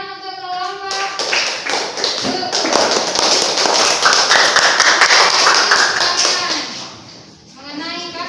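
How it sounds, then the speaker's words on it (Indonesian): A classroom of students applauds a student group, dense rapid clapping that swells from about one second, holds loud and close, then fades out, with a teacher's voice speaking before and after. "beri tepuk tangan untuk kelompok"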